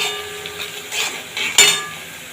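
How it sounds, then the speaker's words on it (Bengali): Onions browning in a spoonful of ghee in a pan for a Bengali dahi chicken, with soft scattered sizzling, a light stir and one sharper clink of utensil against the pan partway through. "পেঁয়াজটা একটু হালকা ব্রাউন করে ভাজবো"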